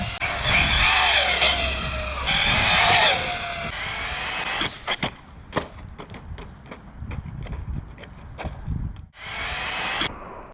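An Arrma Granite RC car makes speed runs in a car park: a loud high-pitched motor whine surges in bursts, then gives way to scattered clicks, knocks and scrapes before another sharp burst of whine.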